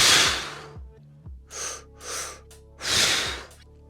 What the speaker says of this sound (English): a normal way how you might be pushing on the exhale would be this